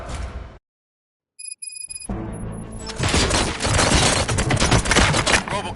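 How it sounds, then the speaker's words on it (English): Rapid bursts of gunfire erupt in a loud, dense fusillade after a brief silence and a few electronic tones, volleys of shots overlapping continuously near at hand in a Robocop action game scene. "Gunshots? What's going on?"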